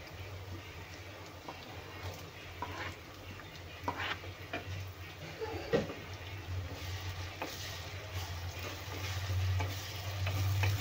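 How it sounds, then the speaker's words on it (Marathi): Tomatoes and golden onions fry in oil while a spoon stirs them, a gentle continuous sizzle with occasional scraping and tapping strokes against the pan, nearby and moderately quiet. "टोमॅटो पण आपल्याला तेलामध्ये छान नरम शिजवून घ्यायचे आहे।"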